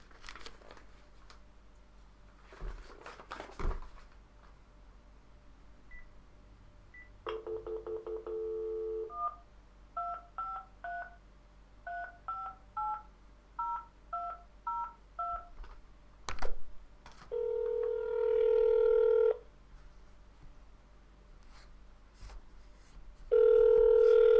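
A telephone keypad is used to redial a dropped call: a run of DTMF beeps, a dial tone, then long ringback tones repeating, close and clear, with brief handling noise and little talk.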